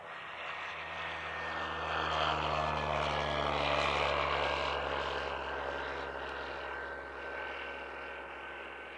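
Aircraft engine noise beside an active runway at an F5J glider competition, a steady loud drone with a faint whine that swells toward the middle and then slowly eases, heard alone with no talk.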